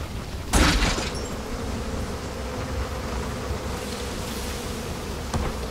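Buzzing bees in the turn-based strategy game Massive Chalice, a steady dense insect drone holding through the whole stretch after a brief louder burst near the start, with no talk over it.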